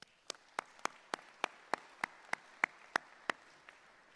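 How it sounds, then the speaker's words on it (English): Audience applause at a dental medicine school commencement ceremony, heard as sparse, evenly spaced sharp claps, roughly a dozen in steady rhythm, fairly faint against a quiet hall. "Let's give them a round of applause as well."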